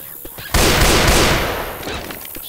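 Gunfire erupts in a multiplayer shooter game, a sudden loud burst of dense rapid shots that tapers off over a couple of seconds.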